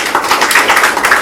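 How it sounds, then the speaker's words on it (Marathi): An audience applauds at a poetry book launch ceremony, producing a brief burst of dense, close clapping. "तिच्यासाठी पुन्हा एकदा जोरदार टाळ्या होऊन जाऊ द्या"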